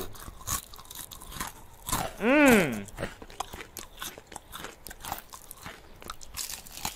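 Someone bites into crunchy Korean fried chicken, and the close, crackling crunches and chewing continue in bursts, along with a brief voiced hum of enjoyment.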